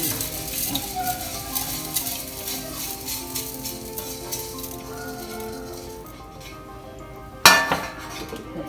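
Poha being stirred and roasted in a pan with coconut, a steady low sizzle with frequent metal spoon scrapes and clinks against the pan, and one sharp louder clank near the end, with no speech.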